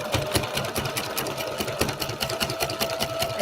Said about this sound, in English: we are going to go ahead and backstitch